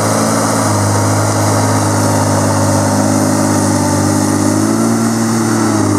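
A Tigercat 635D skidder with dual wheels driving over brush in the woods, its diesel engine droning loud and steady at close range with a constant low rumble and no voices.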